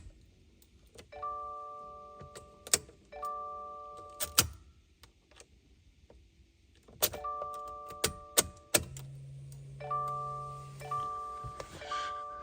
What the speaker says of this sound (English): turn the ignition off and on